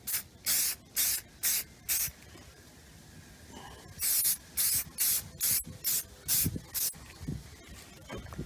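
An aerosol can sprays paint onto a Corvette steering wheel in a third coat, giving short, loud, close hissing bursts in two rhythmic runs, each about half a second long, with a quiet pause between the runs.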